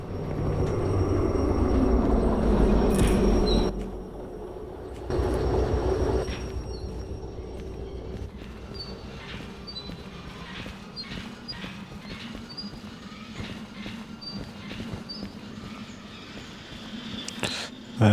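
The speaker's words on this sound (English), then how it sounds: "I suppose this is going to roll to wherever the other train stopped and then slam into it." A train car rolling along rails in Derail Valley, a loud low rumble at first that drops to a steadier, quieter rolling with faint rhythmic clicks and clacks over the wheels, no voices.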